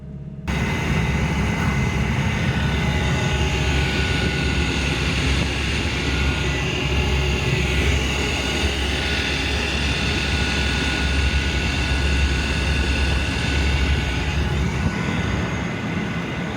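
Loud, constant roaring drone of a Lada Niva cabin at about 90 km/h on the highway, engine and road noise blending into one unbroken rumble with no talking.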